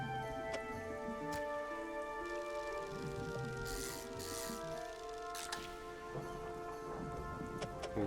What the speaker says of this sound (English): I think it might just be the storm.